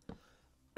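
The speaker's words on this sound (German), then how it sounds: "Ja, das war nur normales Husten." A short, dry cough bursts out at the start, followed by a second cough just under a second later, both close and fairly quiet against a faint background.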